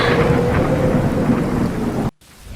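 Thunder and storm sound effect, a loud close rumbling roar with heavy rain hiss that cuts off abruptly, followed by quieter lingering rain.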